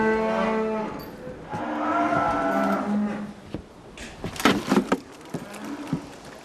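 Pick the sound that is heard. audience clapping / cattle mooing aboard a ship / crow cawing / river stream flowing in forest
cattle mooing aboard a ship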